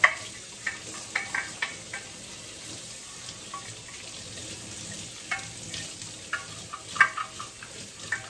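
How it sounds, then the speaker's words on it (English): Running water splashes over metal parts of a Weston meat cuber and tenderizer being rinsed at a sink, a steady hiss broken by irregular clattering and splashy bursts close by. "I'm going to rinse this off and then put it in the soap"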